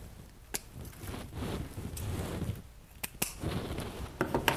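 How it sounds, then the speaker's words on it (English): Scissors snip near the hands while an amaryllis is being hung, giving a few crisp close cuts over a steady background of handling rustle. "I'm going to reach in and cut."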